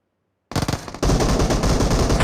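Rapid automatic gunfire from a video game, starting abruptly after a brief quiet and building into dense, loud, continuous bursts of shots.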